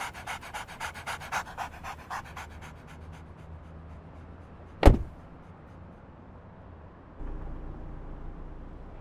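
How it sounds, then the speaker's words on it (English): Dog panting rapidly and rhythmically close by inside a car for several seconds. A sharp click cuts in midway, then the panting fades under a low engine rumble. "He's a certified support dog. He's very friendly and won't bite anyone."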